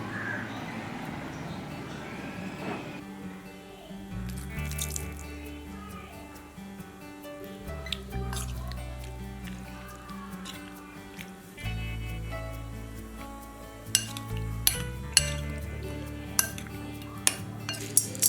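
Raw prawns being mixed with turmeric and lemon juice in a metal bowl, with repeated clinks and scrapes of a spoon against the dish, soft stirring, and sharper taps toward the end.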